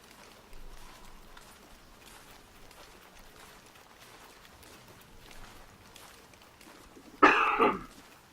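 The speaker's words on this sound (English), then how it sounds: "Please excuse kind of the coughing and the sounding terrible" A single sharp cough bursts out near the end, loud and close, after several seconds of quiet room noise.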